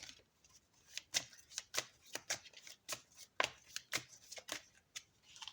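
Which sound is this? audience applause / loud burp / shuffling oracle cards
shuffling oracle cards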